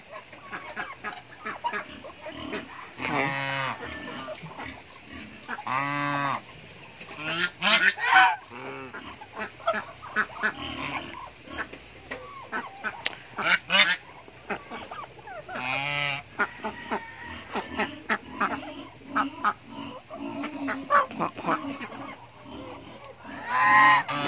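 A goose on a small farm gives loud, close honks in irregular bursts, with other fowl calling and faint talk in the background.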